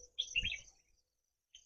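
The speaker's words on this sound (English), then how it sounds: "The birds chirping" Birds chirp on a farm on a quiet morning, a brief cluster of faint, thin calls followed by silence and one more short chirp.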